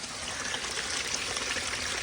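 Rainwater flows from a catch basin through about 150 feet of 6-inch drain line into a creek, a steady close rushing trickle without pause and with no talk.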